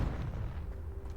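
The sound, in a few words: Confringo fire spell cast in video game Hogwarts Legacy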